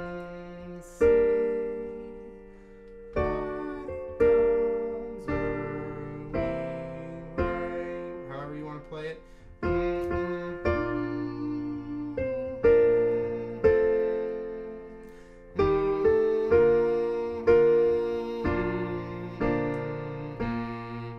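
Solo piano plays The Star Spangled Banner at a slow practice tempo, each chord or melody note struck clearly and left to ring and decay before the next, with no voices over it.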